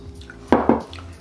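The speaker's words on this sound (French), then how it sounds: "On prend la même cuillère pour en mettre sur notre pizza." A spoon dropping homemade tomato sauce onto a homemade pizza: two soft, wet splats in quick succession, close and fairly loud, over a quiet kitchen background.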